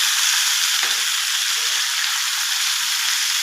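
Papaya pieces fry in a pan with a continuous bright sizzle, loud and close, while a utensil stirs them with faint scraping; no one speaks.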